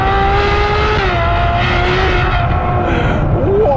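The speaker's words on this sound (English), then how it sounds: "it all starts with that incredible V12" A Ferrari's naturally aspirated V12 engine revs loud and close, a dense steady howl with rising and shifting harmonic tones held throughout, with no voices over it.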